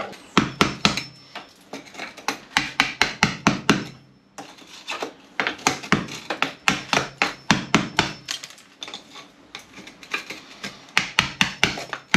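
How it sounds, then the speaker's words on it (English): A hammer strikes a chisel in quick, regular bursts of sharp taps, pausing briefly between runs of blows, while chasing a wall to move a light switch. "use a hammer and chisel"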